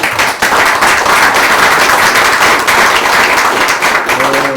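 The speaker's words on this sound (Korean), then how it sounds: "저는 이 자리에서 우리 박수 한번 보내줬으면 좋겠습니다." Loud applause from the audience at a Democratic Party supreme council meeting in Jeonbuk, a dense wall of clapping that starts after a brief pause and holds steady to the end, with a faint voice emerging at the close.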